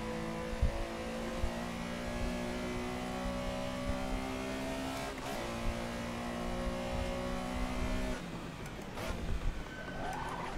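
Porsche Carrera Cup race car engine in a sim racing game, a steady loud drone with layered harmonic whine held for about eight seconds, then a shift and brief revving with lighter knocks near the end.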